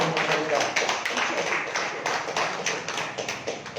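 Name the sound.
congregation clapping in praise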